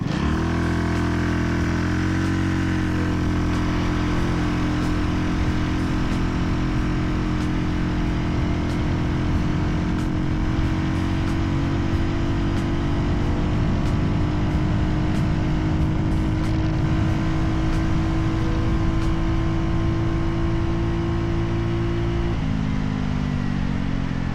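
A Yamaha Riva 125 gentsuki scooter on a top speed run, its engine droning loud and steady with a continuous high buzz that holds nearly constant throughout, dropping slightly near the end, with no talking.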